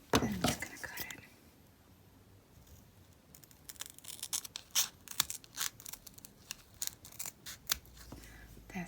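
Beading thread snipped with scissors at close range, a cluster of quiet crisp cuts and small handling clicks over faint background, with a soft voice speaking.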